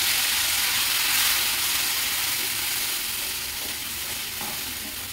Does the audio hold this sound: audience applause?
no